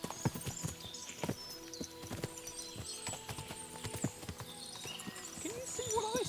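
Horses clip-clopping in the video game Kingdom Come: Deliverance II, a dense, steady patter of many hooves on hard ground with occasional whinnies, mid-distance and continuous, under ambient game sounds and some talk.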